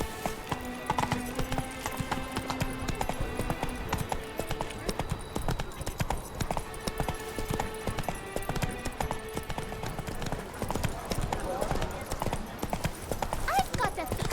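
Hooves of Roach, Geralt's horse in The Witcher 3: Blood and Wine, clatter in a fast, steady galloping clip-clop that runs throughout, set against game music and occasional speech.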